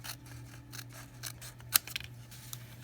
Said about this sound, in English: we're going to trim that right off